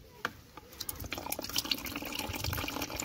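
Water pours from two garden hoses onto a potted rose, giving a steady close splashing and trickling with small drips throughout.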